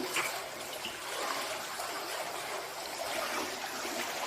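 Water flows through Hezekiah's tunnel, an ancient rock-cut channel, as a steady, faint hissing rush that echoes evenly with no breaks.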